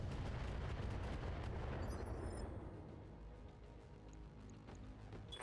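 A precision artillery strike lands over a ridge in a video game: a loud rumbling blast at first, then a long fading roll of echo with faint distant pops.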